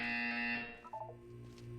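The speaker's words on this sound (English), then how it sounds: "When you hear the buzzer, look down at the floor." In the video game Portal 2, a loud electronic buzzer blares for about half a second, then fades as brief tonal beeps and a low hum follow.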